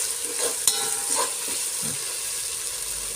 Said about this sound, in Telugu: అల్లం వెల్లుల్లి పేస్ట్ కూడా బాగా వేగిందండి, పచ్చివాసన పోయింది నీట్గా